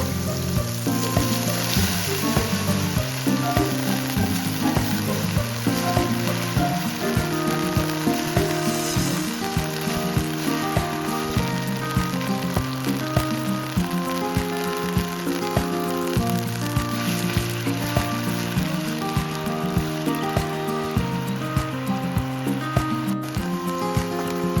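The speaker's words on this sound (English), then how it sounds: "Add the mushrooms, season with salt and 1 teaspoon hondashi powder and stir fry until wilted and lightly golden." Mushrooms stir-fry in a pan, seasoned with salt and hondashi powder, giving a steady loud sizzle throughout with a music bed playing over it.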